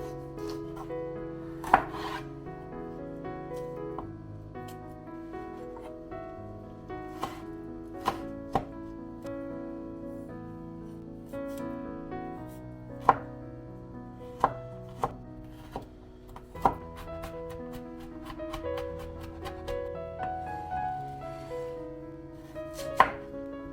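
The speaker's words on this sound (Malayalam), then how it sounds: "വെജിറ്റബിൾസ് ഒക്കെ കട്ട് ചെയ്തെടുക്കാം." Capsicum, garlic, green chilli and onion being chopped on a board in a home kitchen: irregular knife strikes, some sharp and louder, over a steady low rumble, close up with no talk.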